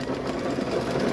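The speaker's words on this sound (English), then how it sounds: "I am using a Brother Luminaire 2 on here." Brother Luminaire 2 sewing machine stitching while making aprons, a steady close, even mechanical hum and rapid needle chatter running continuously without pauses.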